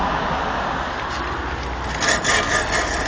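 A hand tool is rubbed back and forth over sand and bedding while patio slabs are laid outdoors, giving a continuous gritty scraping that swells slightly near the end, close up and with no voices.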